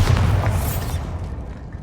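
A Bombarda spell blast in Hogwarts Legacy on PC: a deep, booming explosion with a heavy low rumble and crackling top, loudest in the first second and then fading into a lingering rumble, with no voices.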